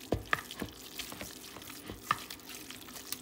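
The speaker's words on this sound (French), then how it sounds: "En plus, on va mixer." Food with chopped garlic being stirred while cooking, soft scraping and light sizzling with a few sharp clicks, faint and close, no talk.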